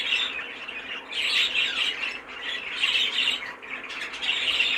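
A pair of budgerigars in a breeding cage squawk and chatter continuously, their harsh bright calls close and fairly loud, swelling in bursts over a steady background hum.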